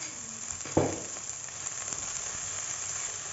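Onion cooks in oil in a pan for aloo kachori filling, a steady close sizzle with one brief louder burst of spattering near the start.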